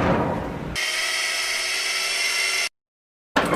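A power drill whirs steadily at close range for about two seconds, then cuts off abruptly into silence.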